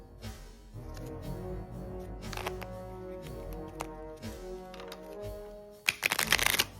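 Playing cards shuffled at a tabletop game by someone with a broken finger: faint handling, then a loud rapid riffle of snapping cards near the end, close by, with low room hum.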